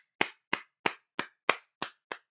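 Seven sharp hand claps at an even, unhurried pace, close and crisp, each with a short decay and silence between, no voices.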